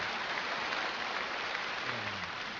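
Applause from a church congregation at a Wednesday service, a steady even patter of many hands clapping that fills the room at moderate loudness with no voices over it.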